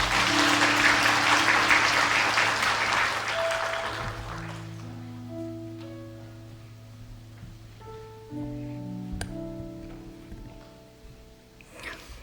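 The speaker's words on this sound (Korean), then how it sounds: "우리 박수로 한번 축복합니다" A church congregation claps at a Sunday service, loud and dense for about four seconds before fading, after which sustained tones carry on.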